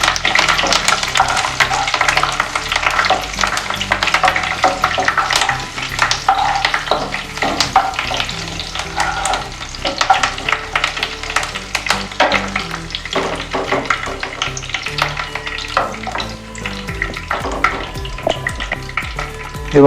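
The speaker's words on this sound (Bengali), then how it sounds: "কারি পাতাটা একটু ভালো করে নেড়ে নিই।" Curry leaves stirred and fried in hot oil in a pan, a loud, close crackling sizzle with constant rapid spatters and frequent scraping strokes of a spoon throughout.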